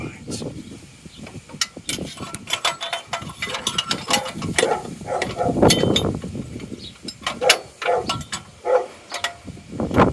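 A spanner ratchet clicks in short irregular bursts while coolant parts are bolted back onto a Mazda MX-5, mixed with metallic tool handling and faint voices.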